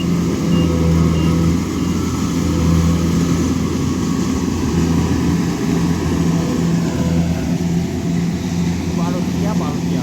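A combine harvester works a rice field with a loud, continuous engine drone and a steady low hum of mechanical noise throughout.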